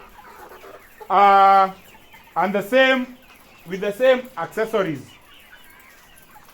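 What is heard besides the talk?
laying hens clucking in cages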